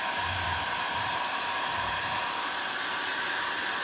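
A heat tool blows steadily to dry a craft project, giving a constant, close whooshing roar with a few faint low bumps early on and no talking.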